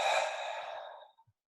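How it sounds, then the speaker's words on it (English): A deep, drawn-out exhale through the mouth during a bootcamp workout cool-down stretch, one long breathy rush that fades away over about a second, with no talking. "inhale, and exhale all the way out"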